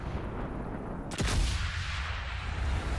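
A single sharp sniper rifle shot in the video game Sniper Elite 5 cracks out against a steady background hiss, followed by a brief rumbling tail.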